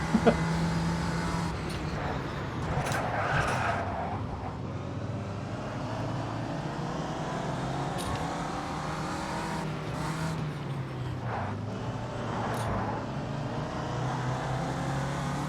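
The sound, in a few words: Ginetta G40 race car engines at Adelaide in video game AMS2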